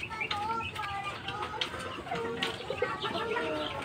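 Fighting roosters and other chickens in a backyard flock cluck and crow at moderate distance, with overlapping calls and a person speaking intermittently among them.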